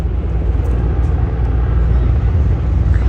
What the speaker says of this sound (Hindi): इस वक्त भी एक हेलीकॉप्टर हमारे ऊपर, उसकी आवाज़ आ रही है, घूम रहा है।